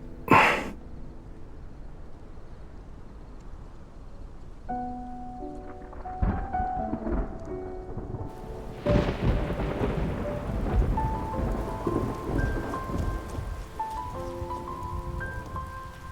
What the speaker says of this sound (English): It's raining! Let's head inside.